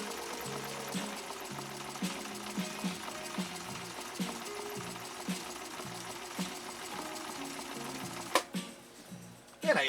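A Viking 6010 sewing machine stitches an EKG pattern in a steady, rhythmic mechanical chugging with evenly repeating needle strokes, ending with a couple of louder clunks as it stops.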